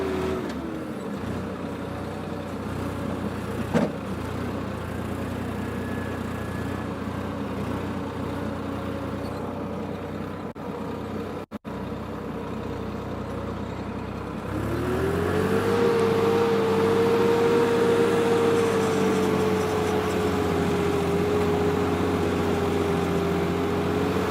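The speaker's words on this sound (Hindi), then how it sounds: "तो जैसे जैसे अब ट्रैक्टर की आवाज़ है" A tractor engine idles and drones steadily nearby, its low mechanical rumble rising in pitch and loudness partway through as it revs up and then holds a constant, louder hum.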